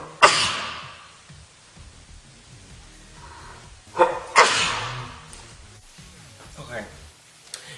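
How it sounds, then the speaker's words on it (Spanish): A single sharp sneeze bursts out near the start, and a second, fuller sneeze follows around the middle. Both are close and loud, with quieter shuffling and faint voice sounds in between. "Uy, voy a estornudar."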